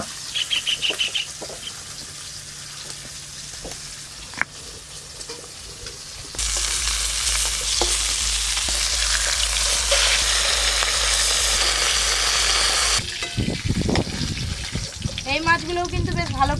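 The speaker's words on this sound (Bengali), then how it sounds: "এই মাছগুলো একবারেই ভেজে নেব।" Fish sizzle and crackle in hot oil on a clay stove in a village kitchen, a loud, steady frying hiss that swells midway and then gives way to a voice talking near the end.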